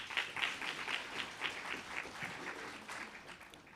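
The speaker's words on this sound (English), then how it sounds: "let's give the choir a big round of applause." Audience applause for a choir at a World Teachers Day program, a steady patter of many hands clapping at moderate level throughout, with no voices over it.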